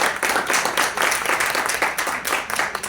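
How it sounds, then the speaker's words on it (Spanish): An audience at a book presentation during a book fair applauds, a short burst of dense, steady clapping from a crowded room, fairly close and with no talk over it. "Un aplauso."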